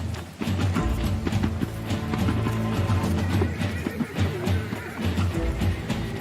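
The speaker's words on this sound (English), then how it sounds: "Farmers and stockmen take to their steeds, head to the mountains, and round up wild horses." Horses ridden by farmers and stockmen rounding up wild brumbies in the mountains make a dense, continuous clatter of many hooves, loud and close, with an occasional neigh and no talking.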